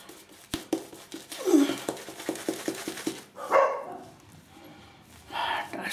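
Several dogs bark in short, excited bursts close by, with yips and a voice talking over them.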